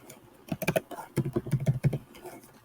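Quick bursts of typing on a computer keyboard while working in Figma, a run of sharp close clicks in uneven clusters, with no voice over it.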